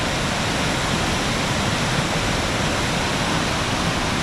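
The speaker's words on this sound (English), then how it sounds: "to see that water rushing like that is very neat" Water rushing through a mountain river at the Sinks in the Smoky Mountains, a loud, continuous broadband roar that stays steady and close throughout, with no voices.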